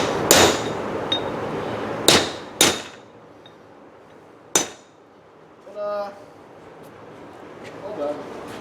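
Sharp hammer blows drive a part into place during clutch repair on a 1994 Ford/New Holland 1715 tractor, about five loud spaced metallic strikes with brief clinks between and quiet stretches, close to the microphone.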